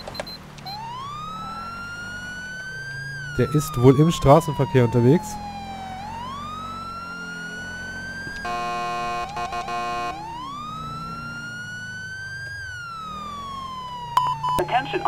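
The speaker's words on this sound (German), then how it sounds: "Dann muss die Sirene doch wieder anmachen" A wailing police car siren in Grand Theft Auto V rises and falls steadily throughout, with someone talking over it partway through and brief electronic beeps near the middle.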